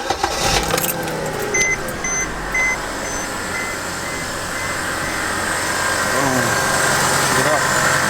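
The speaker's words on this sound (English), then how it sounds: "Turn on the car." A Mercedes-Benz C-Class 250 engine turns over and settles into a steady idle, a continuous low rumble filling the clip at close range, with brief jingling and faint electronic beeps near the start.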